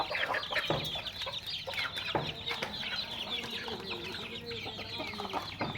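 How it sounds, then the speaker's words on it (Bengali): Domestic village chickens kept alongside quail cluck and chatter close by in a busy, overlapping flock, with short calls repeating steadily throughout. "দেখুন মুরগিগুলা কীরকম হয়েছে।"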